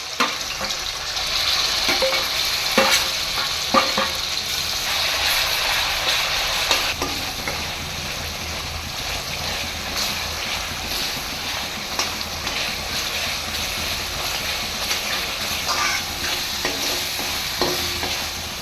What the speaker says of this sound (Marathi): वाटलेलं वाटप आता आपण तेलामध्ये टाकतो.